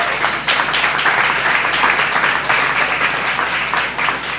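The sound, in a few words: audience applause at a dinner event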